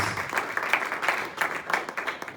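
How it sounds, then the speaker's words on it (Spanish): Church congregation clapping in praise during a service, fairly quiet, brisk and slightly rhythmic applause from a modest group. "Y denle un aplauso al Señor porque los miro muy tristes."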